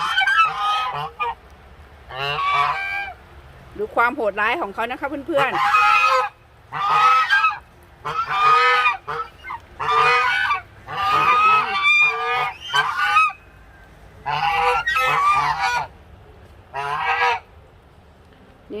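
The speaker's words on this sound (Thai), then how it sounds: "เปิดกรงให้กับห่านนะคะ" A flock of geese honks loudly and repeatedly after being let out of their pen on a rabbit farm, with harsh overlapping calls in bursts throughout and someone speaking briefly.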